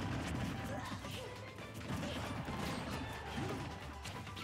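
Forward smash hits in a Super Smash Bros doubles tournament match: a dense, busy wash of game impacts and crashing effects, with several thwacks under continuous crowd and commentary noise.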